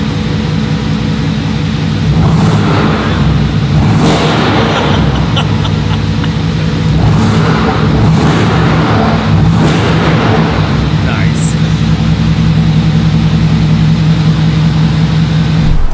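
A Mercedes-AMG GT4 race car on track gives a loud, steady engine roar, with repeated rising revs and gear changes across the run.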